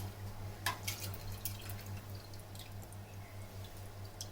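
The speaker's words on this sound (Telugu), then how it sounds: "బాగా హీట్ ఎక్కినాక గంట దాకా నానబెట్టుకున్న బాస్మతి రైస్" Soaked basmati rice tipped into hot boiling water for chicken mandi biryani, giving soft wet splashes and drips over a steady low stove hum, fairly close and quiet.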